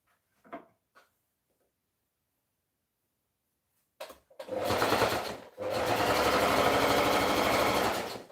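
A sewing machine stitches pants, a few faint clicks and a pause before the motor runs in a dense, loud, steady whir, broken by one brief stop and restart.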